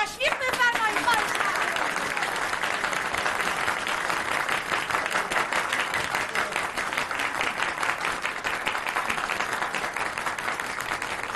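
An audience applauding in a film scene, sustained clapping at moderate level with a brief voice near the start and talk faintly underneath.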